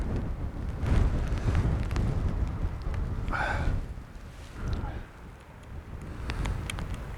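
Strong wind buffets a microphone outdoors on a wild, wet landscape shoot, a loud low rumbling roar that surges and eases in gusts, dropping briefly before building again.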